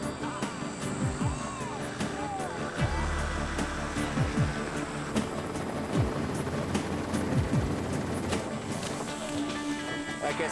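Helicopter flying over the bush while tracking escaped giraffes, a steady loud rotor drone throughout, with a voice talking over it.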